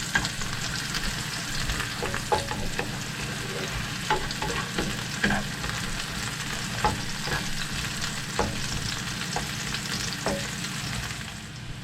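Eggs frying in a pan over gentle heat for a vegetable omelette, giving a steady close sizzle with light stirring scrapes and small clicks throughout, no voices.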